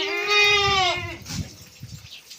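Goats on a goat farm bleat in a loud, close, wavering call lasting about a second, followed by softer rustling and shuffling movement nearby.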